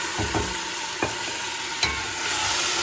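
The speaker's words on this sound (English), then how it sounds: "Now we're gonna dump some marsala in there." Marsala wine hits a hot pan and sizzles loudly, with a few clanks of utensils stirring as the frying hiss continues and swells.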